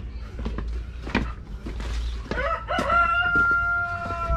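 Rhode Island chickens cluck over a steady low rumble, then a rooster lets out a clear, fairly close crow that carries through to the end.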